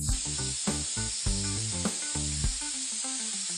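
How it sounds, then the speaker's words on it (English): A spray gun hisses steadily while applying high-gloss clear coat to a VW Golf Mk5 grille, under background music with rhythmic notes. "a layer of high-gloss clear coat is applied for protection and shine"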